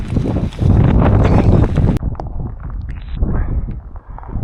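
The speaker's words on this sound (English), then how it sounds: "we've now suddenly got this breeze coming, so I think that's the wind coming in for the night" Wind gusting across an open hillside at Red Tarn on Helvellyn, a loud rushing roar for the first two seconds, then easing into softer, fluctuating buffeting with low rumble.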